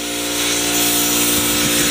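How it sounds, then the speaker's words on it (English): An air compressor runs steadily and loud while air is put into bike tires, a continuous mechanical hum with a few brief clunks near the end, no voices. "you hear the air compressor going"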